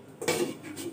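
Metal lid set onto a cooking pot of mourala fish curry with potatoes, a brief clatter and ringing clink up close with no one talking.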